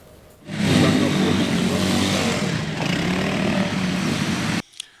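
Nigerian Army motorbikes on a counter-terrorism operation in Borno State in the northeast, a steady loud engine drone that holds for about four seconds and then cuts off abruptly.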